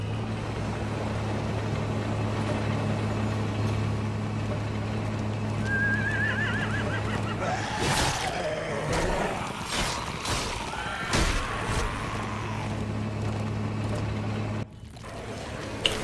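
Horses whinnying in The Walking Dead: New Frontier video game, several loud wavering neighs in the middle of a steady low hum, with no talking.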